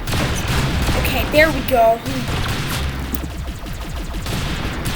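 Rapid gunfire in the Roblox shooter game Arsenal, a steady run of shots with a couple of louder bursts, heard under a player's voice talking.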